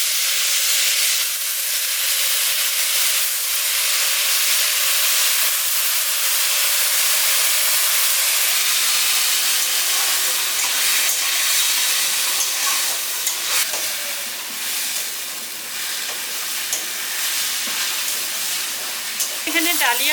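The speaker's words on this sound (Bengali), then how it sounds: "এখানে ডালিয়া আর ডালটা দিয়ে ভালো মতো সবজিগুলোর সাথে মশলাটার সাথে মিশিয়ে দিয়েছি" Soaked broken wheat and mung dal stirred into spiced vegetables sizzle in a pan with a steady, loud, bright hiss that continues alone throughout, easing slightly near the end.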